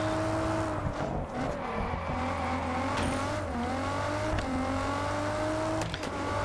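A steady car engine drone from the game Test Drive Unlimited Solar Crown, with small pitch wobbles from shifting and throttle, light tire squeal and scattered clicks over a constant hum.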